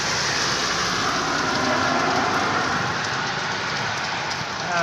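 Steady rain falls in Udupi, India, a dense continuous hiss of drops on surfaces that holds an even level for the whole stretch with no voices.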